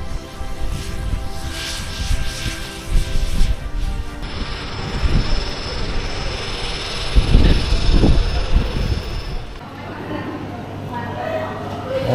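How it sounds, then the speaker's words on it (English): Airplane engine roaring nearby as a skydiving plane comes in to land in Thailand, swelling then fading, with wind buffeting and people talking over it. "There's the plane landing."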